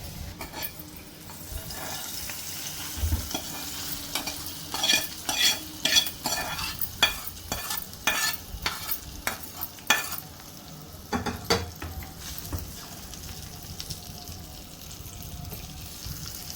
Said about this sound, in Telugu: కొద్దిగా కరివేపాకు కూడా వేసి దోరగా వేయించుకోవాలి